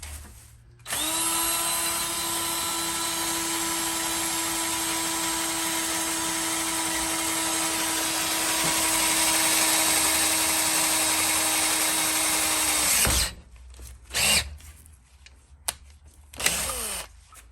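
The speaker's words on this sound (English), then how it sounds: "we're going to drill holes through the remaining end caps" A power drill boring holes through plastic end caps, one long steady whine running about twelve seconds at close range, then stopping abruptly, followed by a few brief handling knocks and rattles.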